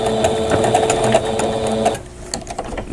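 A domestic sewing machine quilts with a loud, steady rapid stitching rattle close by that stops abruptly near the end, leaving quiet room noise.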